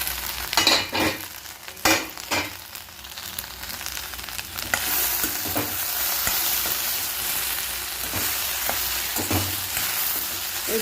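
Okra fries in a pan while being stirred: several scraping, clattering strokes early on, then a steady, close sizzle running on alone, with no voices.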